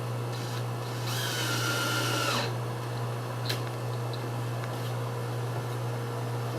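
Power drill with a wood bit driving a screw into wood while building a camper galley frame, one short whirring run close by over a steady hum.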